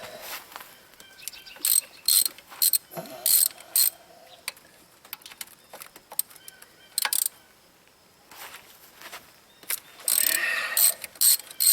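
A ratchet with a metric socket works the thermostat housing bolts on a 2006 Buick Lacrosse, producing bursts of rapid clicking separated by pauses and metallic handling noises, close and fairly loud.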